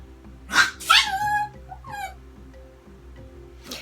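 A dog barks several times in quick, sharp bursts close by, with a quieter yelp afterward and another bark at the end.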